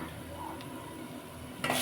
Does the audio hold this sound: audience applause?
no